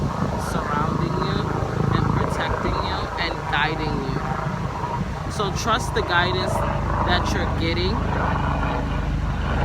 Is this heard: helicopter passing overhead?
yes